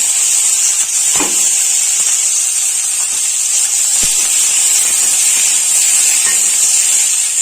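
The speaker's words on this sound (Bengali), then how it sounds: "তো পেঁয়াজ ভাজা কমপ্লিট হয়ে গেছে এখন ফুলকপিটা দিয়ে দেবো" Boiled cauliflower cooks with frying onion in hot oil in a wok, giving a steady, loud hiss and sizzle close up, broken by a few faint clicks and scrapes.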